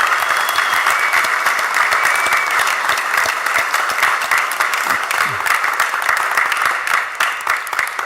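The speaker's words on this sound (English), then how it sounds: "And let's give another huge round of applause for Councilwoman Jannie Blackwell" Audience applause at a city council meeting, long steady clapping from many people filling the chamber, loud and continuous, with faint voices and a few whoops mixed in.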